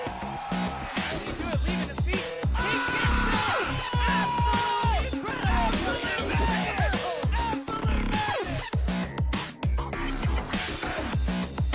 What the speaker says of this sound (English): he's getting the crowd going